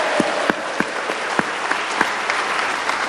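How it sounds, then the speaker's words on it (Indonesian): A seminar audience claps enthusiastically, a dense, sustained round of applause with distinct sharp claps ringing out throughout. "Sekarang Bapak Ibu, boleh tepuk tangan dulu yang meriah Bapak Ibu."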